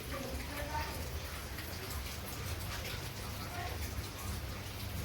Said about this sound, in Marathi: हे बघा बाहेर पाऊस पडतोय.